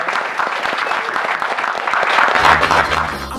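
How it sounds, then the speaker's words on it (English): Audience applause in a studio show, dense continuous clapping close by, with a low musical beat coming in near the end. "Guys, give them a round of applause"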